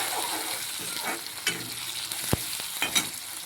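Onions, tomatoes and spices fry in a pan, a steady close sizzle with occasional stirring scrapes and a sharp knock of a spoon against the pan.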